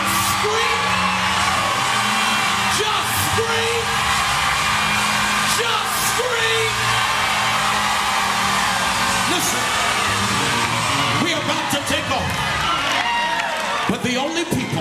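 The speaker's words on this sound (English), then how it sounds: "The only people who are screaming in this recording tonight" A church congregation screams together during a live evening recording, a loud, sustained wall of whoops and yells with voices rising and falling throughout.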